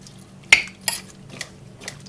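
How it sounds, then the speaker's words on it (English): A spoon stirs stew ingredients coated in flour and herbs inside a slow cooker, making a few separate scraping clinks against the pot, one sharp knock and several lighter scrapes, close and otherwise quiet. "Give that a really good stir"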